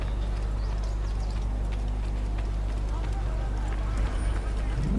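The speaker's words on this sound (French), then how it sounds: "Allez, petit cheval." Horse galloping in Assassin's Creed, a steady run of hoofbeats layered over constant game background noise and a low engine-like drone, with a voice talking over part of it.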